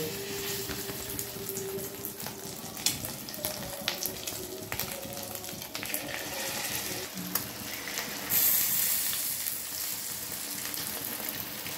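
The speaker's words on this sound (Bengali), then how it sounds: "এবার আমি তেলে এক এক করে ভেজে নেব" Hand-rolled chicken rolls, flatbread wrapped around chicken filling, fry in oil over a low flame, giving a steady bubbling sizzle with scattered crackles and light clinks throughout, and a brief louder hiss near the end.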